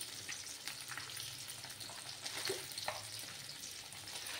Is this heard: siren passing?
no